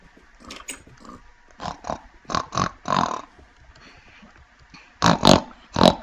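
A pig in the video game Minecraft gives a series of short, loud grunting oinks in bursts, some paired, with a louder cluster near the end, alone without talk.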